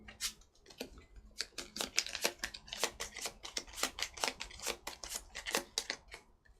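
Playing cards shuffled during a solo session of the Star Wars Outer Rim board game, a dense run of quick crisp riffling clicks and snaps at close range, steady throughout with no talking.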